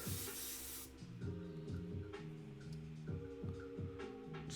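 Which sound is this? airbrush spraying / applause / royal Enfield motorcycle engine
airbrush spraying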